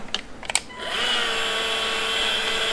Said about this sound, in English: Cordless heat gun.